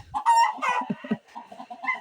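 A rooster crows loudly and close by, followed by a few softer clucking notes, with no other sounds around.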